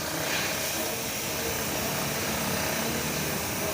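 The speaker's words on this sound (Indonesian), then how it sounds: "Nah ini mesinnya saya hidupkan ya teman-teman." A Honda Vario 150 scooter with an overheating radiator runs steadily after being started, giving a constant, fairly loud broadband engine hum with no pauses and no talk.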